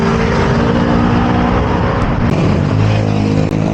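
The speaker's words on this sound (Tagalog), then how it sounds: "Malakas ang motor." A motorcycle engine runs loud and constant while riding around Marikina, a dense roaring drone with wind noise filling the whole stretch, steady with no breaks.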